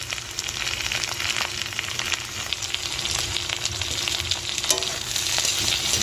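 Potatoes and yardlong beans fry in a pan with a steady, close sizzle and occasional stirring scrapes, continuous throughout with no talking.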